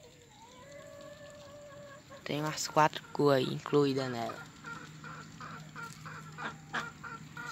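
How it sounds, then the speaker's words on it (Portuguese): Several hens, including a very old grey, barred, white and chocolate-tinged one, cluck in a pen shared with ducks, the bursts loud and close at mid-clip with a person talking over them. "Essa aqui é uma das galinhas mais velhas que eu tenho."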